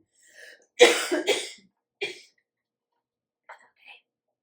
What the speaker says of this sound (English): I'm about to start coughing